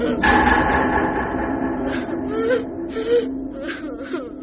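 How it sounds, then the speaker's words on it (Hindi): A child's whimpering cry serves as a sound effect in a Hindi horror story, thin broken wails and sobs over a low background drone, fairly loud and close. "रोने की आवाज पूरे घर के हर कोने में बराबर सुनाई दे रही थी"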